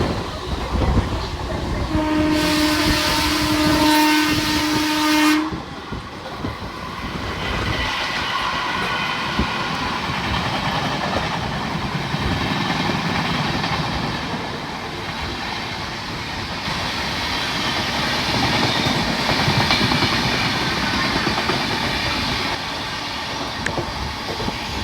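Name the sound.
Rupasi Bangla express train passing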